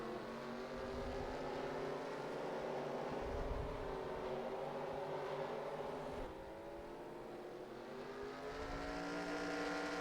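Engines of NASCAR stock cars in the NASCAR Racing 2003 video game, racing on a New York street circuit, drone steadily throughout with layered tones shifting as cars pass, loud and continuous with no talk.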